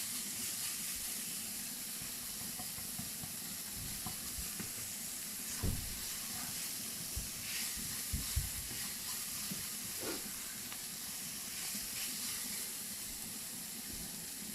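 Shallots sweat in a pan with oil rendered from chorizo, giving a steady, gentle sizzle and hiss throughout, with a few faint clinks of stirring.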